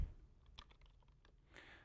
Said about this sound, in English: I'm going to start typing the second one.